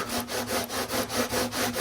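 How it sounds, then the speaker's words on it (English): Rhythmic back-and-forth rubbing of a sanding block polishing the frets of a Gibson guitar, about seven even strokes in under two seconds, close and steady. "we can do a little fret polishing with our sanding block"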